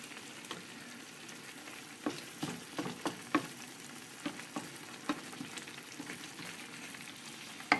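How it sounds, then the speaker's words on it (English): Spicy eggplant and tofu sizzle in sauce in a pan: a soft, steady frying hiss broken by repeated scraping and stirring clicks from a utensil, with no one speaking. "You cook it just a little bit more, make sure the sauce is getting to the eggplant"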